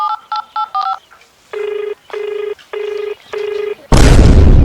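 Phone keypad tones: a quick run of short dialing beeps, then four longer evenly spaced ringback tones, ending in a sudden loud burst of noise.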